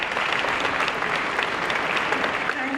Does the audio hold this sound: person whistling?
no